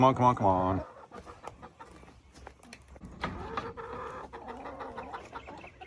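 A loud harmonic call opens, then chickens cluck in short, scattered bursts close by, with faint voices mixed in.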